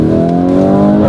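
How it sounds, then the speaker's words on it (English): A Lamborghini Urus SUV engine revs steadily with a loud, close, continuous exhaust drone, its tone rising slightly near the end, no voices over it. "It's already got the burbles."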